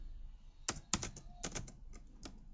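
Computer keyboard keys clack in an uneven burst of close, crisp strokes, a few sharper hits standing out, with no talking over them.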